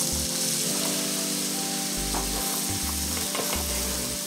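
Vegetables sautéing in a hot pan give a continuous dense sizzle with scattered crackles and low thumps from stirring, close and loud throughout.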